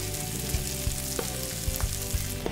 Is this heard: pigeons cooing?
no